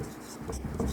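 Pen scratching across paper while an answer is written out by hand for a police constable exam answer key, soft continuous strokes with a few brief pauses, close and fairly quiet, with no one talking.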